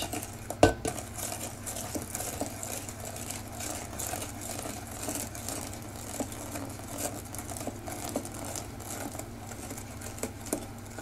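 A spoon scrapes and taps steadily around a metal saucepan, stirring hot lemon juice mixture, a soft continuous stirring with a sharper clink near the start.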